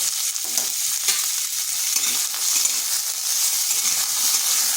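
Starfruit chutney being stirred in a pan over low heat, with a continuous soft sizzle and repeated scraping strokes of the spoon against the pan.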